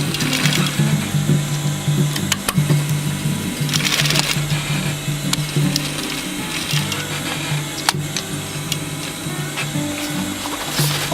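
A sewing machine runs steadily, double-stitching webbing onto canvas for a rollup bag, with a continuous mechanical whir and rhythmic ticking clatter throughout and no voices.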